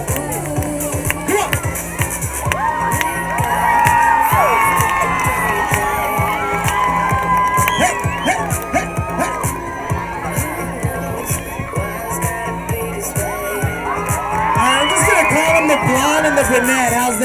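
An event crowd cheers and shouts, with whoops, children's yells and excited chatter rising and falling in a loud, continuous roar, while people talk over it.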